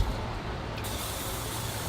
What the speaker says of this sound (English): and we're gonna spray it down a little bit.